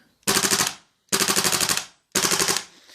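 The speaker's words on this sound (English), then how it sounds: "It'll kind of spurt out a few shots, wait for a second, spurt out a few more." A custom integrally suppressed GHK G5 airsoft gun fires three separate rapid bursts, each about half a second long with short pauses between them, loud and close with no talk.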